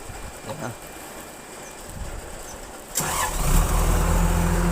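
A Komatsu WA 200 wheel loader's engine cranks briefly and catches, then settles into a loud, steady idle close by.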